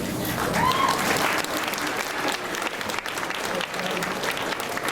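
Sustained audience applause at a high school graduation ceremony, a dense, steady wash of clapping from a large crowd that holds at an even level for several seconds.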